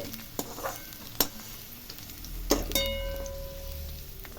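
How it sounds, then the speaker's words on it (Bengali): Fried potatoes lifted out of hot oil, a steady soft sizzle with a few sharp utensil clicks and scrapes, ending in a bright ringing metallic tone. "আলুগুলো লাল লাল করে ভাজা হয়ে গেছে, এবার আমি তুলে নিচ্ছি।"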